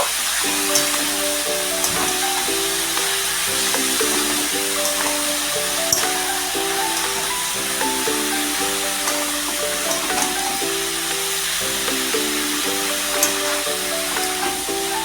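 Bottle gourd and shrimp sizzle and hiss steadily in a hot pan as they are stirred, a continuous frying spray under soft background music, with no talking.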